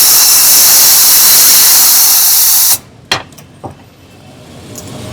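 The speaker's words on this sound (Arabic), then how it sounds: "ننفخ الازازه تاني" Air is blown into a perfume bottle to clean it, making a loud, steady close-up hiss for almost three seconds that cuts off sharply, followed by a few faint clicks and handling sounds.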